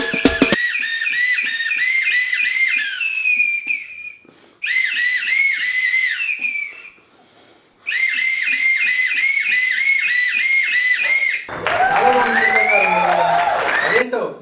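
A man whistles an imitation of a fire engine siren on a comedy show stage, loud rising-and-falling wails in three long bursts with brief gaps, followed by noisy crowd cheering and talk.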